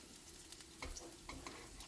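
Sliced bitter gourd sizzles quietly in a covered frying pan, a soft steady frying hiss with a few small pops and crackles.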